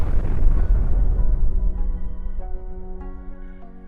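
A dynamite blast set off on a frozen lake beneath an empty car for a Fast and Furious stunt booms loudly and rolls away in a long, rumbling decay while steady ringing tones rise underneath.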